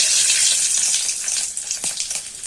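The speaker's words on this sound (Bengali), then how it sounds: "এই যে জিরে ফোড়ন দিলাম, আর একটা লঙ্কা দিয়ে দিলাম" Cumin seeds and a green chili hitting hot oil for tempering: a loud, hissing sizzle right up close that fades slightly over a couple of seconds, with faint pops and a spoon clink near the end.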